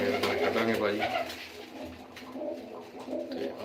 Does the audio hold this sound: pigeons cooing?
yes